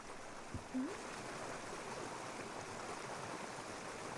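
Hot water running into a bathtub in the game Raw Danger, a steady broadband rush that fills the whole stretch at an even level with no voices over it.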